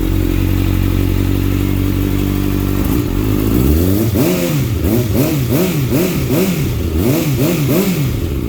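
A 2013 Kawasaki ZX-6R 636 Ninja fitted with an Akrapovic exhaust starts with a steady, loud idle, then revs up in a string of rhythmic throttle blips that rise and fall, close and alone.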